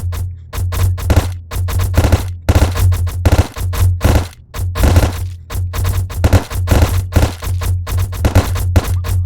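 Rapid gunfire in the VR shooting game Gun Club VR, loud close bursts of automatic shots in quick succession with short gaps, continuing for several seconds.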